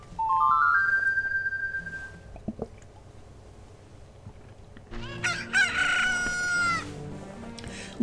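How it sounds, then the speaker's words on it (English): A rooster crows in The Legend of Zelda: Ocarina of Time after a chick hatches from an incubated egg, a rising electronic fanfare followed by a loud game crow with bright harmonic stacks, preceded by short jingle tones. "Look, a chicken hatched from the egg that you were incubating."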